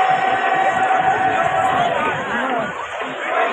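A dense crowd at the Kunkeshwar temple fair by the seashore makes a continuous roar of many overlapping voices and shouts, loud and close, with a steady high hiss above it.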